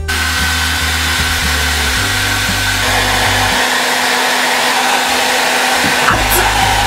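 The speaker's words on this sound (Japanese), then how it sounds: "今回はドライヤーで髪の毛乾かしてきました" A very hot hair dryer blows continuously while hair is being dried, a loud steady whooshing roar with a motor hum that shifts slightly as it moves.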